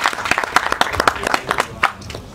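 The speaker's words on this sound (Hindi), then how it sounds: "तालियां बजाइए।" Brief, lively applause from the crowd at a film music launch event, loose clustered claps close by that taper off toward the end.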